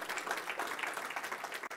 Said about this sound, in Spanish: déle esas palmas al Señor